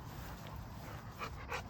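A Cane Corso puppy pants softly and steadily at close range, quick breathy huffs running through a quiet indoor room with a few slightly stronger breaths near the end.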